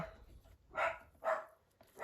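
A dog barks indoors, two or three sharp single barks spaced apart, moderately near and alone without talk.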